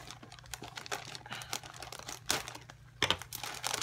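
Parcel packaging being opened during a mail-day unboxing: papery crinkling and rustling with a few sharper tearing bursts, close and fairly quiet, with no talk.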